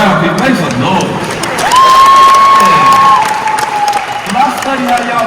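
Crowd at a live tour event at the Lyric in Baltimore cheers, whistles and applauds loudly, a sustained roar with shouting voices throughout.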